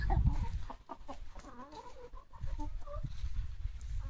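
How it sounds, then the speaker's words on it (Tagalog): Chickens clucking in a backyard coop in Binangonan, Rizal, a mix of short close clucks and murmurs, moderately quiet, with the birds' chatter overlapping irregularly. "Chickens."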